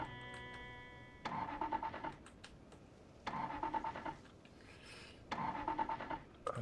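A vehicle engine in Project Zomboid cranks in three repeated attempts, each a loud rhythmic starter churn lasting about a second, separated by quieter pauses and never catching.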